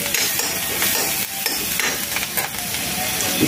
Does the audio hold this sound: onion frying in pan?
yes